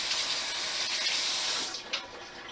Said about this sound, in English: And I'm just going to rinse my hands really quick.